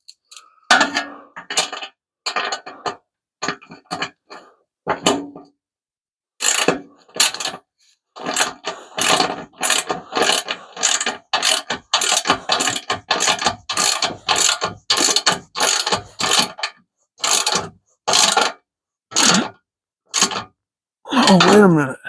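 A ratchet tightens bolts on the front bumper of a hemi Plymouth Duster, giving bursts of sharp clicking strokes in an uneven rhythm, close and distinct, separated by short pauses.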